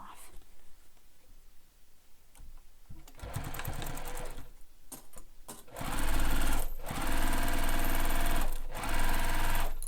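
A sewing machine bastes the fabric of a handmade bag in place, starting with a few soft stitches and then running into a steady, close, loud mechanical whirr, with no talk over it.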